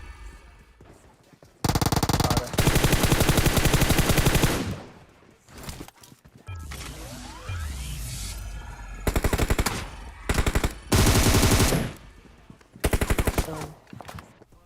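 Rapid automatic gunfire in a shooter video game rattles in several long loud bursts separated by short pauses, with quieter game sounds between volleys.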